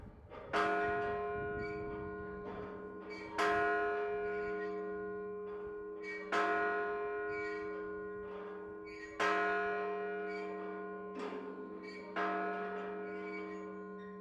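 A bell rings slowly for a virtual Martin Luther King Jr. ceremony, five clear strikes about three seconds apart, each one ringing on and fading before the next, with nothing else heard.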